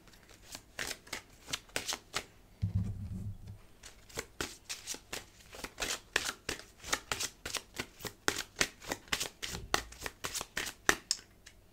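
Tarot cards are handled and shuffled at close range in a steady run of crisp riffling flicks and slaps, with a brief low thump partway through and no talking.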